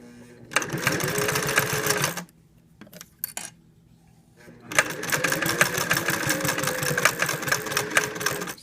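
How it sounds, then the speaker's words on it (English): A sewing machine fitted with a zipper foot stitches in two steady bursts, a quiet pause between them, with a fast even mechanical rhythm. "I'm using the zipper foot because I want to be able to stitch pretty close"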